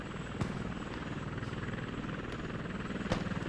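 A helicopter in a war video game, hit and damaged while trying to drop supplies, beats with a steady rapid rotor chop that stays loud and close throughout, with occasional sharp cracks of distant gunfire.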